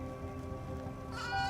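A sheep bleats in the video game AER: Memories of Old, a short tonal call rising near the end over a steady, droning ambient backdrop.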